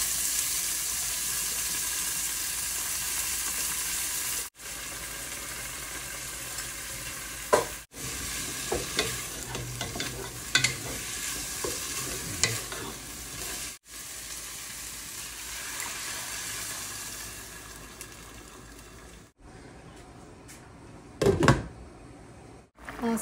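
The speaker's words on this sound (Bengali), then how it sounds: "এখানে আমি ডালটা রান্না করে নিচ্ছি" Dal cooks in a pan while being stirred, a soft, steady hiss and bubbling under scattered spoon scrapes and clanks, interrupted by several abrupt cuts.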